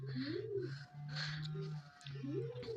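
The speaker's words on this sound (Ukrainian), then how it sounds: "Іноді проходиш тут поруч, а голуби годують, то чути, як пищать." Pigeons coo in repeated low, rolling phrases close by, with faint high squeaks from chicks mixed in.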